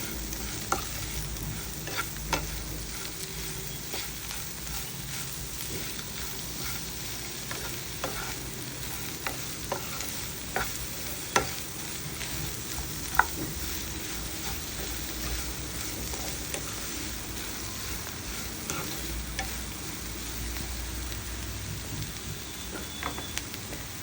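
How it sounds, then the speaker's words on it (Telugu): Bitter gourd (kakarakaya) stir-frying in a pan over a medium flame, seasoned with turmeric and salt: a continuous even sizzle with occasional light ladle taps and stirs, steady and close for the full stretch. "కలిపెట్టుకుంటూ మధ్య మధ్య లోపల మీడియం ఫ్లేమ్లోనే మనం ఫ్రై చేసుకోవాలండి"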